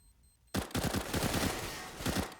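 Desert Eagle pistol fire in a Counter-Strike match on Cache, a sudden rapid string of loud, close shots that starts after a moment of quiet and continues as a dense volley of overlapping gunfire.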